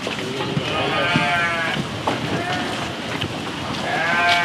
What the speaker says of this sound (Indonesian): ini domba gede nih